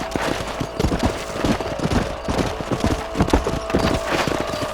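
In Red Dead Redemption, a horse's hooves gallop across ground in a quick, loud, uneven drumming of clip-clop beats that runs throughout, close to the listener and without speech.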